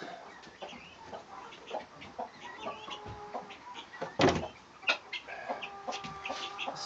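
Chickens, including Silkies, cluck and murmur softly at close range while being fed mash, with scattered short calls and a louder burst partway through over a quiet background.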